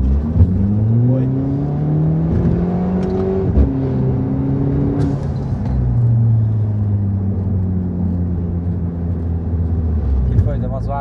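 Volkswagen Jetta turbo with a holed, broken exhaust accelerating, a loud steady engine drone rising in pitch, dipping and climbing again close to the microphone, with people talking over it.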